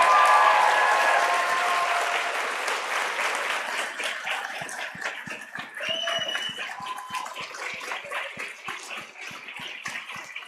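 Audience applause at a conference closing ceremony, a loud burst of many hands clapping that slowly fades while scattered individual claps continue near the end.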